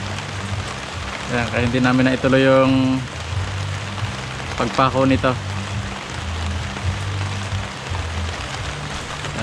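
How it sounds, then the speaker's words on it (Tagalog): Steady heavy rain drums on a surface throughout at a house construction site in Muntinlupa, halting second-floor slab formwork, with a person speaking briefly over the downpour. "Tigil yung gawa muna namin kasi biglang lumakas yung ulan."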